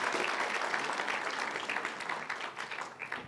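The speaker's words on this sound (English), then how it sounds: "A round of applause for our presenters." A conference crowd at an anti-money-laundering forum in Eswatini gives presenters a dense, steady round of applause that fades slightly toward the end.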